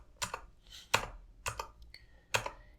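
Four firm key presses on a computer keyboard, the Enter key struck in a loose rhythm, each a sharp close clack with a short rattle, in an otherwise quiet room.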